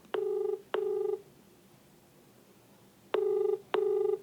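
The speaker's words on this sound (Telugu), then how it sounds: "రింగ్ అవుతుంది" Outgoing call ringback tone on a phone line, two pairs of steady double rings separated by a quiet gap, heard alone with no talk.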